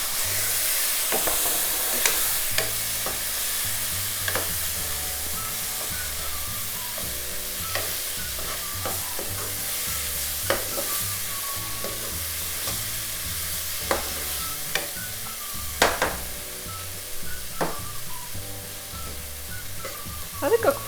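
Chopped tomato sizzles in a pan for Punjabi chole, a white chickpea curry, with steady frying hiss broken by scraping stirs and occasional clinks of the spoon.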